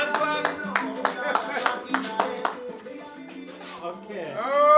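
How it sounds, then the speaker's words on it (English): Group hand clapping in a class session, a run of sharp evenly spaced claps close by, fading after a few seconds into a voice speaking at the end. "give a hand clap"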